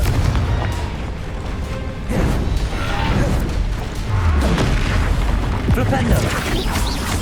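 A Confringo fire spell blasting in Hogwarts Legacy combat on hard mode: loud, dense booming explosions and crackling bursts rolling over several seconds, with in-game voice lines mixed in.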